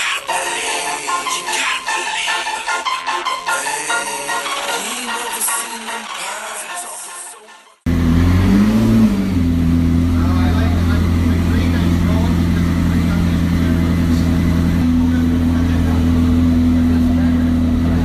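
A car engine runs steadily and loud after a burst of music cuts off, its low hum and drone holding alone through the rest of the stretch.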